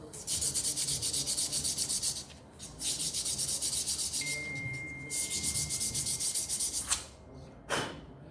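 Abrasive sanding rubs across the variator case surface of a Honda Forza 250 scooter in loud, close, rhythmic strokes, with brief breaks and a few sharper scrapes near the end.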